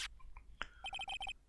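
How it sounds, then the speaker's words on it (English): A phone ringtone in the video game Phoenix Wright Trilogy: a few short electronic blips, then a quick series of chirpy, evenly pulsed beeping tones, quiet and clean with no talk. "And what is with this stupid sounding ringtone?"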